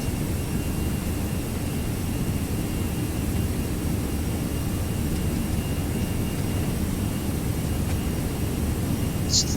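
Airbus A320 jet engines at full throttle in a flight simulator, a steady, dense roar with a broad low rumble that holds unchanged throughout, with no voices over it.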